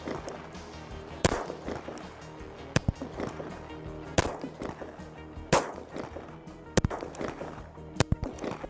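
Occasion Gunworks CZ75 pistol firing, with bullet impacts striking dirt, as a series of sharp, loud cracks spaced about a second or more apart over a constant background rumble.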